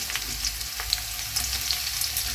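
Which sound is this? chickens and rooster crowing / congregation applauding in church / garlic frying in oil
garlic frying in oil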